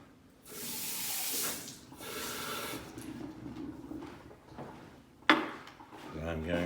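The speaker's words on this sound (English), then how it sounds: "Also going to get a little bit of water." A kitchen tap runs water in a loud hissing burst, followed by softer clattering of dishes and a sharp knock near the end while a cook prepares rolls.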